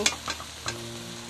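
Carrot cooked in oil is stirred in a pan, giving a faint close sizzle with a few soft scraping strokes near the start, alone with no voices.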